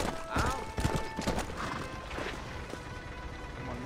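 Hooves clip-clop from a horse in Red Dead Redemption, a short run of hoof beats alongside a whinny, with other game ambience around.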